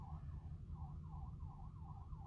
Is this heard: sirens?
yes